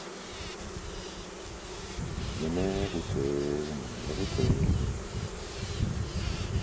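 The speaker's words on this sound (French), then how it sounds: "Regarde, les abeilles qui vont sur les linéaires, on les voit, regarde." Dense, steady buzzing comes from bees swarming close around a Spanish-style Layens beehive built from natural materials and opened in sunlight. The hum is constant throughout, and a voice speaks briefly over it.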